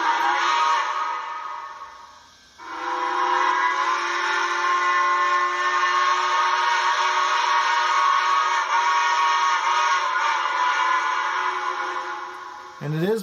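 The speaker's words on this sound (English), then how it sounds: "Here is 1, which is a British Columbia excursion whistle from 2860." A British Columbia excursion steam whistle from a Royal Hudson 2860 locomotive, played through an HO scale model sound decoder: one long, loud chime-like blast with a brief dip near the start, then a sustained multi-tone wail that cuts off cleanly.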